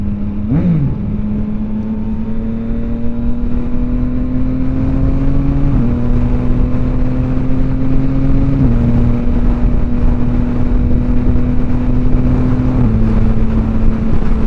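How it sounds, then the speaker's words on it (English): A 2023 Yamaha XSR900 motorcycle rumbles while being ridden, its exhaust holding a steady, loud drone with brief dips in pitch at gear changes and no talking over it. "Get a little internal exhaust here."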